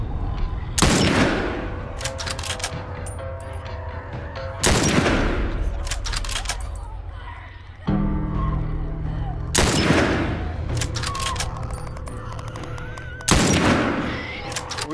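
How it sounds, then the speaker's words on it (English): Repeated heavy gunfire in the video game The Last of Us comes as loud, booming bursts a few seconds apart, with rumbling tails and game sounds between the shots. "We shooting, bro."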